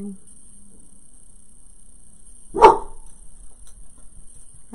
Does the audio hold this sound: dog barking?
yes